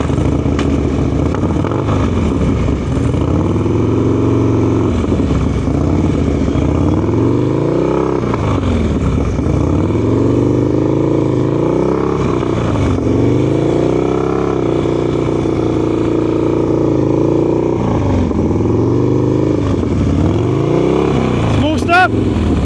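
A motorcycle engine runs continuously during a group riding lesson, loud and close, rising and falling in repeated revs as the rider works the clutch, with an instructor talking over it throughout.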